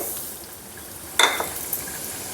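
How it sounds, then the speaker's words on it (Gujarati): Broken wheat dropped into a hot pan for roasting, a sudden burst of sizzle and scraping as it lands, then a lighter, steady frying hiss, close with no talk. "હવે આપણે ફાળા નાખી દઈશું ઘઉંના આ રીતે"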